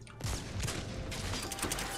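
Wingman revolver gunfire in Titanfall 2: a quick series of sharp shots cracks out over a busy, noisy battle background, fairly close and evenly loud throughout.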